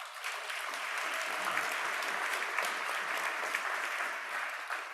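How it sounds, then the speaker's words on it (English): An audience at a conference applauds steadily for about five seconds, a dense, even wash of many hands clapping at moderate volume with no voices standing out. "Give Gina a round of applause."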